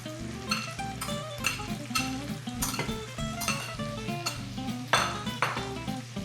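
Chopped onion and celery sauté in olive oil with pancetta in a pan, a steady close sizzle under repeated utensil scrapes and stirring clinks, with a bright ping near the end.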